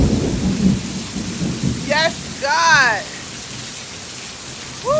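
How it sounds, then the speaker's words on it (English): A rain shower falls steadily outdoors in hot weather with a constant hiss of drops, while someone speaks and whoops over it. "I needed some rain from heaven."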